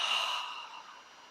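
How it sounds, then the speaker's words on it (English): A single long, deep breath released slowly through the mouth during a guided meditation, a soft breathy sigh that starts strong and gradually fades over about a second, close and alone. "Deep breath. Deep breath. And release."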